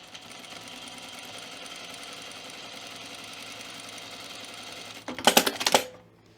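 A sewing machine runs steadily while stitching along a pocket edge for Helen's Closet Cameron button-up shirt, a constant mechanical whir that stops, followed by a short burst of louder clattering near the end.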